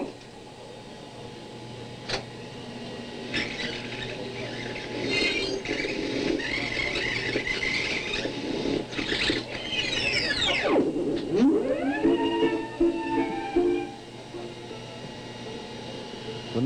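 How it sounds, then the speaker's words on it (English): Late-1950s audio tape machines whirring and squealing as tape is shuttled to locate cues, with rising and falling pitch sweeps, chattering bursts and a steady mechanical hum throughout, moderately close. "The noises you hear in the background are due to Dick Wilson locating audio cues"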